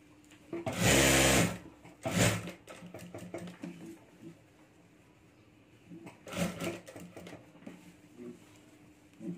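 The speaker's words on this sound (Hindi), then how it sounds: "वहां तक ही हमें सिलाई करनी है" A sewing machine stitches fabric for a potli bag in short, buzzing runs. One longer burst and a few brief ones are separated by quieter handling noises and faint clicks.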